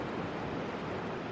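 Rushing water from a large waterfall over rock outcrops on the Loire river, a dense, steady roar that fills the whole moment without pause, heard close by.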